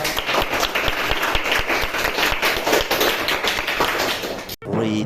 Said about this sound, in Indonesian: tepuk tangan untuk kelompok 2 yang sangat